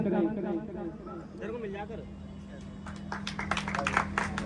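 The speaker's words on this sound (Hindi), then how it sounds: "भाई ताली बजा दो, ताली में कोई कमी नहीं चाहिए।" Clapping at an award ceremony, sharp handclaps rising in the latter half of the clip, close and fairly loud, following someone speaking to the crowd.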